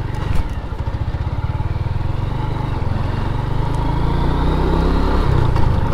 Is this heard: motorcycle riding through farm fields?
yes